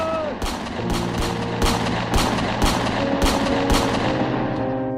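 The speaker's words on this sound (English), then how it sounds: "The unprovoked firing by the British troops went on for 10 minutes until all their ammunition ran out." British troops fire on an unarmed crowd in a walled garden at Amritsar. Loud, rapid bursts of gunfire and sharp reports crack repeatedly over a dense, continuous roar of noise.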